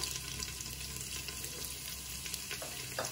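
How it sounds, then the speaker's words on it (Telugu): Ginger pieces and curry leaves frying in a pan for wheat rava kichidi make a steady, close crackling sizzle with light stirring. "అల్లం ముక్కలు కొద్దిగా వేగాక"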